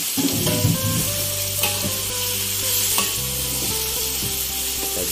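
Taro pieces frying in spiced oil in a pan, a loud, dense, steady sizzle with occasional stirring scrapes and faint background tones, close up and without talk.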